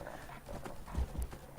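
Horse hooves clop along a road in a video game, several uneven steps under a low ambient bed, fairly near and moderate in loudness.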